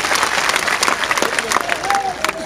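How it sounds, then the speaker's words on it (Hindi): A large crowd at an outdoor political rally claps loudly and continuously, a dense patter of hands with a speaker's amplified voice and some shouts mixed over it. "जोरदार ताली बजा के इनका स्वागत करिए।"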